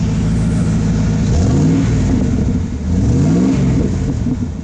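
A Winnebago E350 Mini Winnie engine revs up hard in several loud surges, with a steady close rumble between bursts and rising whine sweeps as the throttle climbs and falls.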